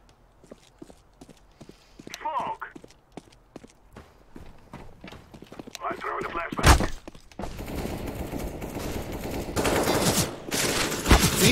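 Rapid bursts of gunfire from a multiplayer PC shooter match where players fight over a bomb, with scattered shots early on building into loud, dense sustained fire near the end.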